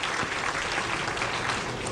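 A bowling crowd at the 2011 PBA Tournament of Champions cheers and applauds to encourage a struggling player, a dense, continuous wash of clapping and shouting at steady volume.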